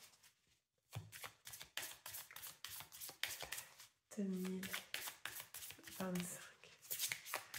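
Tarot cards are shuffled in quick, dense riffling bursts, close and crisp, while someone speaks French over much of the shuffling.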